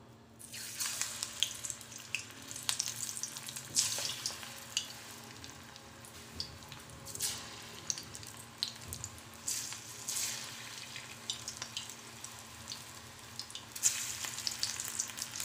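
Pakoda batter dropped into hot oil fries with a continuous crackling sizzle, close and busy, with bursts of louder spitting and bubbling as more pieces go in.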